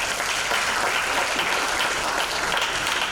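Audience applause after a lecture, a thick continuous clapping from a sizable crowd that stays even and loud throughout, with no speech over it.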